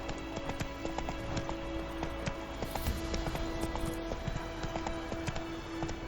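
Rhythmic clip-clop of a horse's hooves galloping steadily in an Xbox video game, quick even beats continuing throughout at moderate, fairly quiet volume with no talk.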